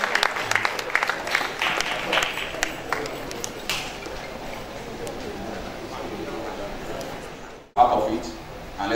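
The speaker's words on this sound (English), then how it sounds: "a round of applause to our president" Applause from the audience at an architects' colloquium, honouring the president, a steady broad patter that runs for several seconds and then drops away sharply near the end.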